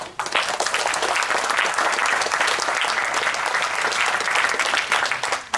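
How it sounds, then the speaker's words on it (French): Loud, sustained applause from an audience gathered in a Paris synagogue during a Hanukkah celebration, a thick continuous roar of clapping that ends abruptly. "j'aimerais qu'on puisse applaudir"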